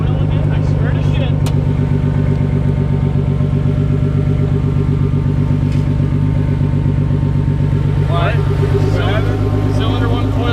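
Nissan 300ZX engine idling roughly with a possible bad cylinder 1 coil, a loud, steady, close engine drone throughout, with people talking over it near the end.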